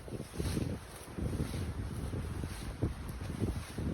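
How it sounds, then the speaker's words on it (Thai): Gusty wind buffets the microphone outdoors in the Thai countryside, a steady low rumble swelling and easing in waves, with no talking. "ช่วงนี้เนาะมีลมเนาะพี่น้องเนาะลมเข้ามาเนาะ"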